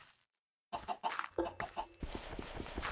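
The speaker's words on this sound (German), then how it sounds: "Hier sind zwei Hühner." Chickens clucking in the video game Minecraft, a few short nearby clucks after a brief silence, followed by a steady low ambient background.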